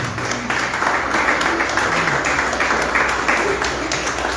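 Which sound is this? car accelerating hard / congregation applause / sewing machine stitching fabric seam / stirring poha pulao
congregation applause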